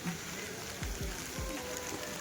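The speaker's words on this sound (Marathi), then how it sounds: "पाऊस तर खूप आहे." Heavy monsoon rain falls steadily near a river's source, a dense continuous hiss with a few low thuds, with no voices heard.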